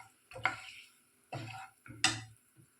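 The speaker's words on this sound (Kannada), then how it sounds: "ಇಷ್ಟೂ ಒಂದು ಸರಿ ಎಣ್ಣೆಯಲ್ಲಿ ಮಿಕ್ಸ್ ಮಾಡಿ" Chili powder stirred into hot oil in a pan for a chicken and field bean gravy, giving three separate bursts of scraping and sizzling with short quiet gaps between them, close and moderately loud, with no talking.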